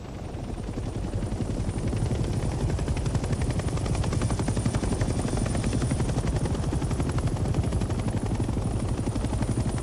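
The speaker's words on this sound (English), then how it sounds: "The helicopter will now take off automatically and remain in a hover state." A transport helicopter lifts off and hovers in the game Hell Let Loose: Vietnam, its rotor beating in a fast, even chop over a loud engine drone that holds steady for ten seconds, with no voices.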